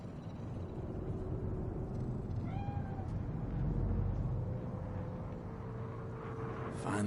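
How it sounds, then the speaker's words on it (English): A cat meows once or twice amid the ambient city soundscape of the video game Cyberpunk 2077, a short rising call over a steady low hum, fairly faint and alone with no talk. "Do you see it? The cat."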